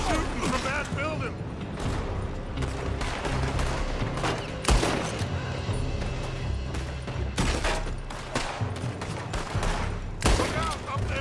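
Gunfire coming from a building in Red Dead Redemption 2, a continuous barrage of overlapping shots and cracks with louder bursts throughout, heard together with speech from in-game characters.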